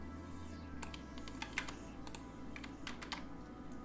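Clicks of a computer keyboard as Python code is typed, soft and close, with irregular bursts of keystrokes over a low steady hum and no talking.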